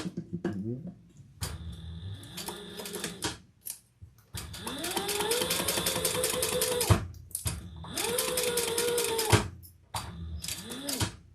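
A sewing machine runs in several bursts while stitching a seam on a crossbody bag, its motor whirring up in pitch during each run with rapid mechanical clatter, separated by short pauses.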